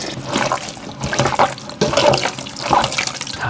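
Pork intestines are washed by hand in water, with splashing, sloshing bursts and running-water gurgles in uneven surges, close and fairly loud, with no talking.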